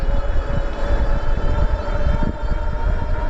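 An electric bike hub motor, a Mokwheel Tor Plus e-bike, running under throttle, giving a steady whine with broadband road and wind rumble, continuous and close throughout.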